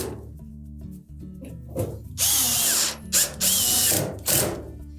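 Power drill driving screws into a Samsung dryer during a thermal fuse repair, a few loud close whirring bursts from about two seconds on, each a second or less, with brief pauses and faint mechanical clicks beforehand.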